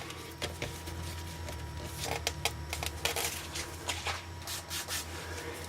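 An atomizer sprayer mists rolled pyrotechnic stars on lead shot, giving a series of short, close hissing spray bursts in an uneven rhythm over a faint low hum, with no talking.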